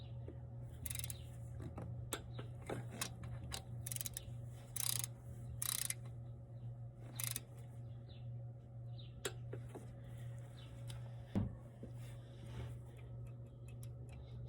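Torque wrench tightening bolts on a HEMI 6.4 392 SRT engine, a series of quiet ratcheting ticks and clicks in irregular bursts over a steady low hum, with one louder knock near the end.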